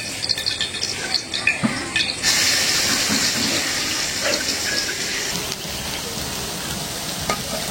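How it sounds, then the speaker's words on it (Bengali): Taro leaf fritters frying in oil give a loud, steady close-up sizzle with a few scraping clinks of a utensil near the start, and no one speaks. "এখন একটু তেল কম দিয়ে ভাজি"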